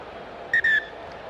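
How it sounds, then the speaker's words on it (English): Two sharp blasts of a referee's whistle for half-time at a rugby sevens match, a short toot then a longer one, over a faint background hum. "the whistle for half-time"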